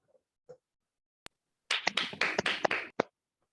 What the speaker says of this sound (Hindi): क्लैपिंग करो, क्लैपिंग, क्लैपिंग फॉर मिताली।